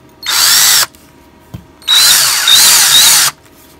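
A power drill twisting wire whirs loudly in two bursts, a short one then a longer one, with a light click in the pause between them.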